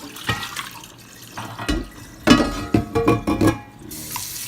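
Tap water runs and splashes as a cast iron pan is rinsed under the faucet, with uneven gushes and clunks of the pan moving in the stream, close and fairly loud, no speech.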